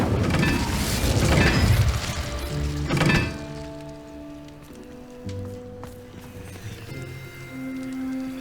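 Incendio fire spell in Hogwarts Legacy, a crackling fiery burst with thuds in the opening seconds, then fading into soft sustained musical tones.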